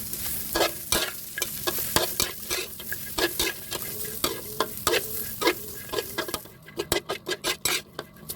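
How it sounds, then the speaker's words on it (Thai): Shallots and garlic dry-roast in a pan, a soft sizzle punctuated by a regular run of sharp scraping and tapping strokes from a spatula, ending in a quicker series of clinks. "สูตรนี้เราจะนำหอมกับกระเทียมมาคั่วให้หอมก่อนนะครับ"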